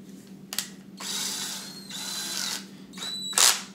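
Close power drill drilling into wood for a floating shelf, whirring in several bursts, starting and stopping with a steady motor whine, alone without talk.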